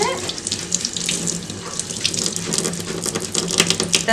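Running tap water streams over a makeup brush being rinsed, a close splashing gush with uneven bursts of spatter as the bristles move under the flow.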